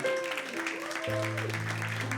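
Church congregation clapping for a woman giving a testimony, a soft, continuous patter of applause mixed with sustained organ or keyboard chords, fairly distant and low in level.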